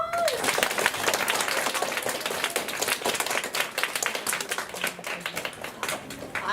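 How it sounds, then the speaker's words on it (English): Applause from a student audience at a children's theatre show, crisp, loud clapping for about six seconds that thins toward the end, with a brief voice near the start. "Round of applause."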